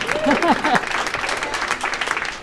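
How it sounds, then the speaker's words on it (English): A crowd at a school district athletics meeting claps in a burst of applause, with a few voices calling out at the start before the clapping carries on and tapers. "You can clap for that, Victor."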